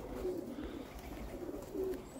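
Łomża pigeons cooing inside a loft: two brief, soft low coos about a second and a half apart over a quiet murmuring background.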